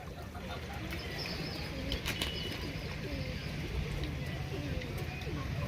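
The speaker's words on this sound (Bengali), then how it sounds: "আর এইখানটা দেখো একটা লাল পায়রা এসেছে" Pigeons, including a red one, cooing and flapping their wings close by, a soft steady murmur of birds with occasional wingbeats and chirps, and people talking faintly in the background.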